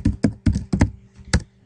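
Several firm, hollow keystrokes on a computer keyboard while typing into a search field, close and distinct, arriving in a short uneven cluster followed by one last tap.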